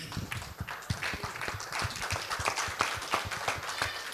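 A church congregation applauds in worship, with a quick run of rhythmic handclaps at a moderate distance. The claps sit over a soft, diffuse background of crowd noise.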